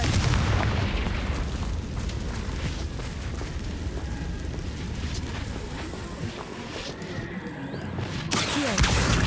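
Confringo fire spell blasts and booms in the Hogwarts Legacy video game, heard as continuous dense rumbling explosions with a sharp burst near the end, with no talk over them.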